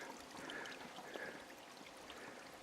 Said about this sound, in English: This is what's left of the Baldy River